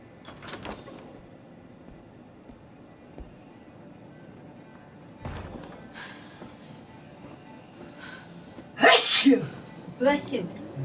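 A single sharp sneeze near the end of a game scene, loud and abrupt, with a quieter burst just after, over faint rail-like background noise and brief speech.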